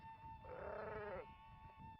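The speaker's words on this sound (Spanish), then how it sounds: "El ganado del grupo del Éxodo consistía principalmente en ovejas y cabras." A single close bleat of a sheep or goat from a flock of ovejas y cabras rises and wavers for under a second over a steady background tone, with no talk during the call.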